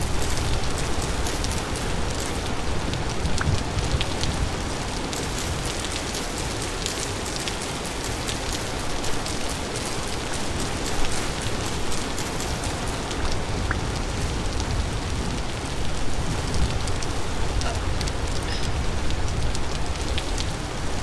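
Steady, dense rainfall patters continuously on surfaces in the survival game Vintage Story, a loud, even hiss of drops with no talking.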